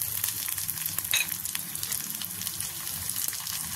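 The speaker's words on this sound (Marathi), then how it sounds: "त्यामध्ये आता आपण टमाटर टाकायचा 1 वाटी बारीक चिरलेला" Finely chopped tomato, about one bowl, fries in a pan with roasted onion and chilli for matki usal, a soft, even crackling hiss with light stirring underneath and no voices.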